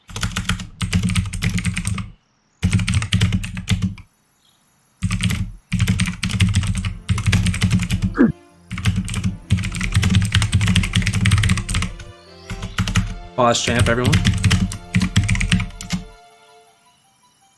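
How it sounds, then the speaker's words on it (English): Steady bursts of typing on a computer keyboard during an SM64 70 Star race stream, loud and close, with brief pauses and a short spoken remark. "Sorry for the typing."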